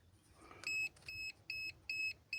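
A multimeter beeps four times in a steady rhythm while resistance is measured on a used ignition coil for a ZAZ Tavria. The short, shrill electronic tones stand out clearly over a faint background.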